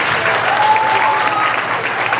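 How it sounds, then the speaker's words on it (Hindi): A crowd at a school graduation day applauds a student, dense and loud clapping held evenly throughout. "तालियों से इनको"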